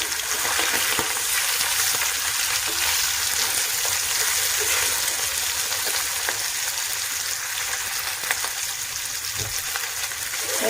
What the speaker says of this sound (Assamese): মেথি ফোৰণ দি মই মাছ ভাজিম।